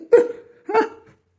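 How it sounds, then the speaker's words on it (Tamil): A young woman hiccups while sitting down to eat at home, two short sharp spasms about half a second apart, close and fairly loud, with no speech over them. "விக்கல் வருது"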